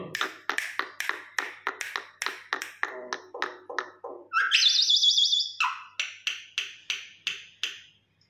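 A pet myna bird gives a rapid series of sharp, clicking chirps followed by a sustained whistling call and more clicks, close and clear with no talk.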